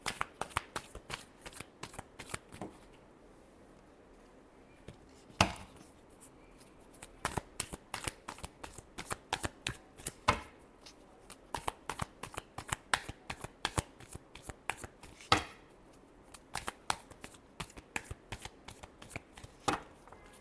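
Tarot cards are riffled and shuffled by hand in a steady stream of crisp, rapid flutters and snaps, with a few louder slaps, alone and fairly quiet for about twenty seconds.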